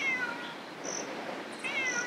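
A cat meows twice, a short nearby call followed by a second one after a pause, both fairly faint over a soft hiss of room noise.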